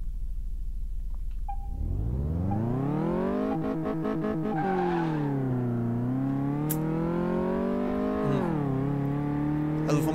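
A Dodge Charger races around a track in Car Mechanic Simulator 2018, its engine revving up from low, then rising and dipping through gear changes. A sustained loud tone carries brief rattly bursts and faint squeals.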